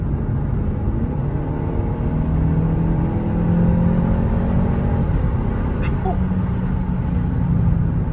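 An Audi A3 fitted with an S3 engine and DQ250 gearbox cruises uphill in fifth gear, a steady, loud low engine drone and road rumble heard from inside the cabin without a break.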